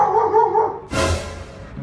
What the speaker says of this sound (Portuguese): O cachorro vai latir.